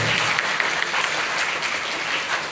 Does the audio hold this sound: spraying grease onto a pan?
no